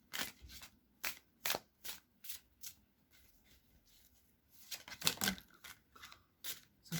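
Oracle cards shuffled for a reading, a series of crisp riffling bursts in quick rhythmic succession, close and moderately quiet, with a denser cluster of shuffles toward the end and no talking.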